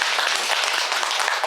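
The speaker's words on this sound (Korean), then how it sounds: "박수 한번 보내봅시다" Dense, steady applause from a Buddhist temple congregation at a Saturday dharma service, many hands clapping together without a break.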